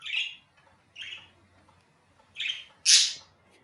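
A pet bird squawks and chirps in four sharp, close bursts spread over a few seconds, the last call loudest and harshest, with quiet between calls and no talking.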